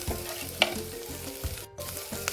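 Mutton frying in a pan with salt, turmeric and coriander powder, a constant sizzle with rhythmic scraping strokes of a spoon stirring the meat, close and steady.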